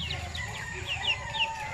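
Free-range native chickens cluck in short, close, repeated calls, a few sharper clucks rising over a low background murmur.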